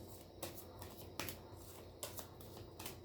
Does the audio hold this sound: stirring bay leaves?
no